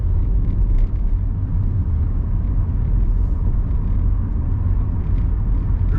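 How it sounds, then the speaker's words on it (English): A big lorry approaching on a snowy-weather road near Leeds, heard from inside a car as a loud, steady low rumble of road and engine noise with no talking. "A big lorry is coming up"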